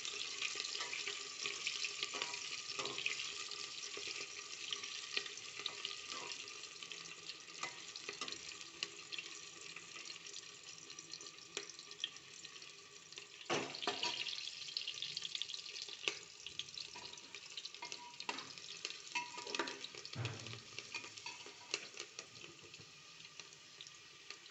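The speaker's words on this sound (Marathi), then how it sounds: "कांदा, छान ब्राऊन होऊ देत आपण याला." Chopped onion frying in a pan until brown while cooking beet rice, a steady soft hiss and sizzle with faint stirring scrapes, continuous and close with no talk.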